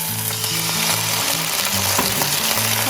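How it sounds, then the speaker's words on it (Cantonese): Wine hits eggplant frying in a wok, raising a loud, close sizzle with scraping stir noises and clanks running continuously throughout. "我哋要做呢就係讚酒"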